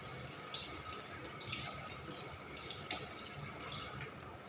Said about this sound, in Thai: เปิดน้ำทิ้งไว้กัน